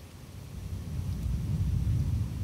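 Thunder from a severe summer thunderstorm in southeastern Pennsylvania rolls as a low, continuous rumble that slowly grows louder, with soft rain hiss faintly underneath.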